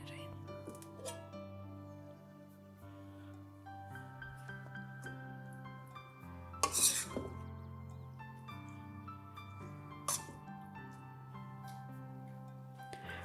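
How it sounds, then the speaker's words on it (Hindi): Aloo bhujia being served onto a dish, with soft scraping and a couple of bright utensil clinks against the plate, faint and close beneath background music and occasional quiet speech. "अब हम भुजिया सर्व करते हैं।"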